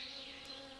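Honey bees buzz steadily around a swarm box in a cone trap, a continuous close insect drone with no pauses.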